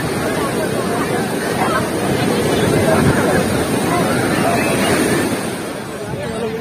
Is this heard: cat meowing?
no